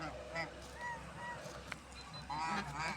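Domestic geese honk repeatedly at close range, feeding on water hyacinth flowers. Loud, nasal calls come in clusters, with a busier burst of overlapping honks near the end and steady outdoor background noise throughout.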